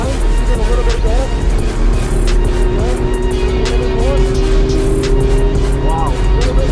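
A car at full throttle with a loud, sustained engine note rising steadily throughout, droning continuously near the listener while people talk over it.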